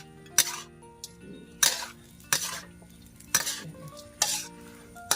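A pan of instant noodles being stir-fried: a metal utensil scrapes and clinks against the pan in five or six sharp strokes over a low sizzle, with quiet pauses between strokes.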